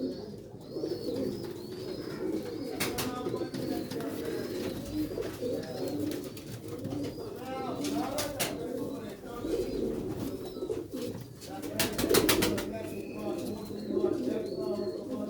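Rooftop pigeons kept on a house roof in Sialkot, cooing continuously in a dense, overlapping chorus with occasional sharp clicks and wing sounds, while people talk nearby.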